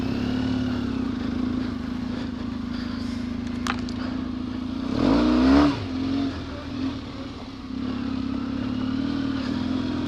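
An off-road motorbike with a blocked carburetor jet runs on the choke, idling roughly with a steady drone, then briefly revving up around the middle before settling back to an uneven idle.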